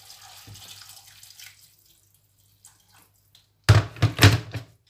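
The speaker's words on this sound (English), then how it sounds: "Add my water." Water poured into a cooking pot holding washed cow skin, a short loud splashing burst near the end after quiet kitchen sounds and a low hum.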